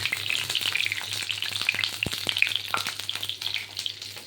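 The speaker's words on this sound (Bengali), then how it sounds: "একটু হালকা করে একটু ভেজে নেব।" Food crackling in hot oil in a small iron wok, with fish heads frying: a steady, close, moderately loud sizzle with scattered sharp pops and spatters, no voices.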